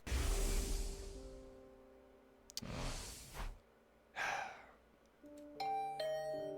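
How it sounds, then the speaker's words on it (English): Electronic doorbell chime from the video game The Hundred Line: Last Defense Academy, a few tonal dings ringing out near the end after soft sighing and breathy sounds, with no talk. "Was that my doorbell?"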